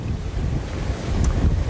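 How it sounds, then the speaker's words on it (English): Strong storm wind roars across the coast, buffeting the microphone in a steady, loud rush with surf-like low rumble and rising gusts toward the end, with no voices. "it's just that consistent 10 to 15 miles an hour, gusting of 30, and it just, as you know, the wind can get through anything"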